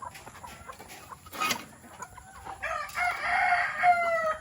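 Chickens in a backyard flock, a few close clucks and squawks with one louder drawn-out call toward the end, over quiet background.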